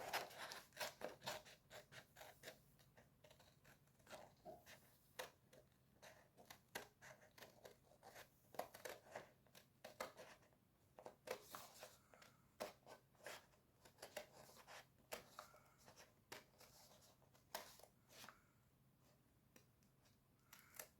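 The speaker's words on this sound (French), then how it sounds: "Enfin, ma paire de ciseaux." A worn pair of scissors snipping through stickers, with many quick, quiet crisp cuts and rustles coming in irregular bursts, close and faint with no talking.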